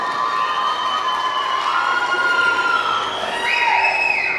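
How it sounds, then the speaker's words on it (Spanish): Live audience at a singing competition stage show cheering to welcome a singer, with loud crowd shouts and high, rising whoops or whistles over a constant roar. Little distinct clapping stands out. "vamos a recibirlo con un fuerte aplauso"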